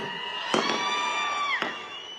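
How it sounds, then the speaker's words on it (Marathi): A crowd at an election campaign rally in Sangola, Solapur claps and cheers, with a dense wash of shouts, whoops and a few sharp bursts of applause rising and falling over about two seconds. "सिनेमातही बापूच्या कॅरेक्टरला टाळ्या पडतात टाळ्या ए बाबा बंद करा ना"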